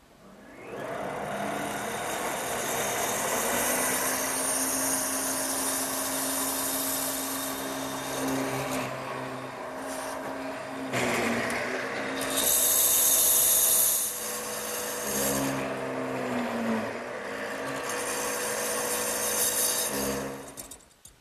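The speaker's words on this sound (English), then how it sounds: "I've also set the depth of the drill press so that I end up with about a 3/4 inch deep mortise" A drill press plunging repeatedly into a wooden table leg to bore a 3/4-inch-deep mortise, a loud steady motor whine with the pitch sagging under load on each cut and recovering between plunges; no talking.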